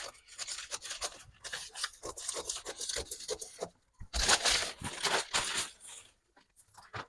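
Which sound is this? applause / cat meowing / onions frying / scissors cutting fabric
scissors cutting fabric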